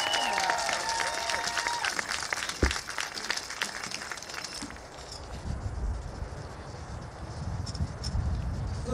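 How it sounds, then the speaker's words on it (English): Graduation-ceremony applause at a Laney College commencement, a broad wash of clapping from a large crowd with some whoops early on, settling into a softer, steadier clatter in the second half. "Let's give them a round of applause."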